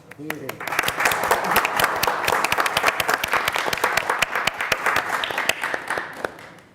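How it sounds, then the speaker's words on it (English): An audience at an arts commission meeting applauds, with sharp close claps standing out over a dense, steady bed of clapping, and a faint voice briefly at the start. "I just think that he deserves some applause."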